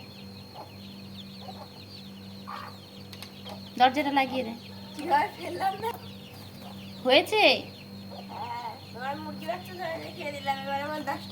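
Chickens cluck and give a few sharp, close squawks in a home coop while chicks are being caught, with people talking throughout.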